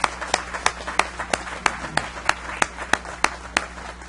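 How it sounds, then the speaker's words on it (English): People at a city council meeting give a round of applause, sounding as a sparse, even rhythm of sharp individual claps, about three per second, over a low room hum. "If we can give another nice round of applause"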